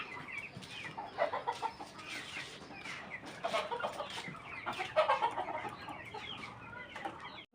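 Chickens clucking steadily at close range, with overlapping calls and short squawks from several birds in a farmyard coop, a busy rhythmic chatter running throughout with no talking.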